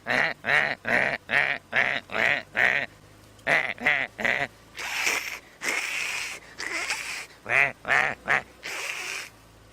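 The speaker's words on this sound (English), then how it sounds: "It could well be the Egyptian goose that sounds like an annoying donkey." An Egyptian goose calls in the wild on a safari drive, letting out a long run of harsh, wheezing, donkey-like honks in quick rhythmic bursts, close and loud.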